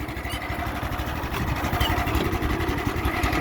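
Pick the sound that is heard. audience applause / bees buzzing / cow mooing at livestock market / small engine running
small engine running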